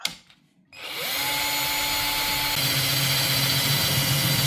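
A power drill bores a hole through the metal cap of an Alesmith San Diego .394 Pale Ale growler, a loud, steady whine running continuously after a short quiet start.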